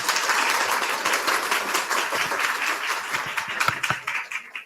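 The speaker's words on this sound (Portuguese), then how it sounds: "Segura, segura e bate palmas!" Audience clapping after a talk on retraining teams for the AI era, a steady, fairly close patter of many hands that holds for several seconds before thinning out at the end.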